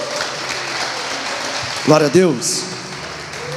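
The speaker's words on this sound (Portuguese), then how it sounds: "Quem pode aplaudir o nome de Jesus?" Congregation in a church applauding steadily as a broad wash of clapping throughout, while a voice speaks loudly over it partway through.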